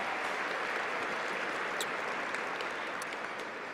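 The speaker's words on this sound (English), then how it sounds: "give a big round of applause to Levy Restaurants and the Georgia World Congress Center" Steady applause from a large seated audience at a school awards ceremony in the Georgia World Congress Center fills the room, a dense wash of clapping with a few sharper claps standing out.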